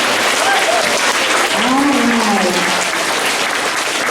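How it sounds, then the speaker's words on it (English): A school awards assembly audience applauds steadily and loudly for the whole stretch, a dense wash of clapping hands, with a brief spoken remark over it. "give them a round of applause"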